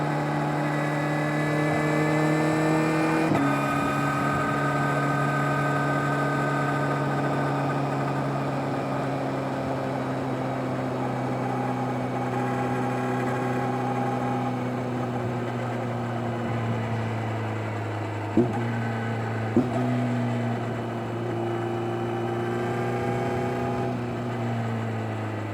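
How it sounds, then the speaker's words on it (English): A 2025 Kawasaki Z900 SE with an M4 slip-on exhaust drones steadily at close range, pitch rising and falling as it accelerates and shifts, with a couple of sharp pops near the end. "I'm just gonna rip around a little bit, show off the exhaust"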